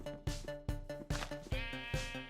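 Sheep bleating in the Minecraft video game: about six short, pitched bleats in a quick regular series, clear and close but fairly quiet, with no talking.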